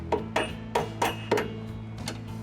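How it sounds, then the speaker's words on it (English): A rubber mallet taps a bolt into a trailer hitch frame on a 2022-2026 Honda CR-V, giving five close, dull knocks at an uneven pace over a low background hum. "Use a flathead screwdriver and a rubber mallet to assist with this difficult process."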